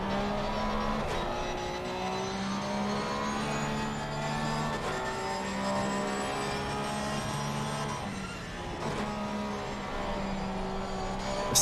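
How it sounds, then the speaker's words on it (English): Porsche GT3 race car engine in Assetto Corsa Competizione, a loud continuous high-revving howl with repeated gear shifts and pitch changes, engine noise throughout without speech. "The sound of the Porsche, absolutely lovely sound here."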